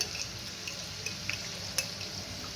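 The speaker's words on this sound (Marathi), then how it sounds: "आपण मिठाचं पाणी तयार केलं होतं ते पाणी याच्यामध्ये टाकून घ्यायचंय आणि व्यवस्थित हलवून घ्यायचंय" Salt water poured into raw banana chips frying in oil and stirred, a sustained hiss with a few sharp spits and splashes, close and without talk.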